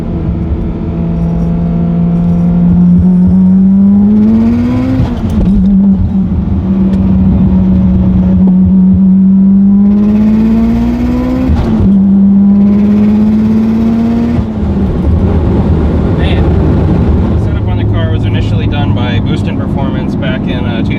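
A 900 hp Mitsubishi Lancer Evolution X with a 4B11T engine and 6466 turbo revs through repeated pulls, the engine note climbing in long sweeps, dropping away and climbing again, loud and close, with voices talking now and then.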